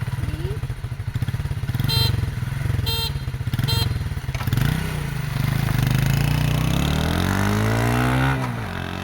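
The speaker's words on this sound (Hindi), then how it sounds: "यहाँ पे खड़ी है अजान की स्कूटी, यहाँ पे खड़ी है मेरी बाइक और मैं जाऊँगा वो आगे और देखते हैं पहले कौन पहुँचता है हमारे तक।" A Honda CD 70 motorcycle and a scooter race side by side, engines chugging close by, then revving and accelerating with a rising, climbing whine before easing off.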